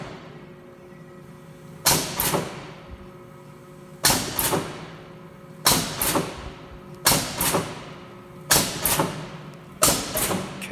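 A Bliss 18C 10-ton OBI press runs in a shop, striking six sharp stroke impacts at a steady rhythm, each one ringing briefly before it fades back to a low mechanical hum.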